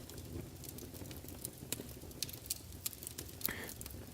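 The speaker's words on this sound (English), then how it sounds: "Listen to that fireplace roar." A fire burns in a home fireplace at Christmas, with scattered sharp crackles and pops over a low, steady rumble of flame, fairly quiet and without voices.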